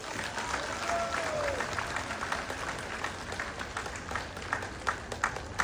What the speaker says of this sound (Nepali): ल एकचोटि मन खोलेर जोरदार ताली बजाऊ